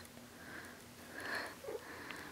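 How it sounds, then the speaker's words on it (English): A pet sniffs softly near the microphone, a few faint airy snuffles against a quiet background. "That's right. Sniff."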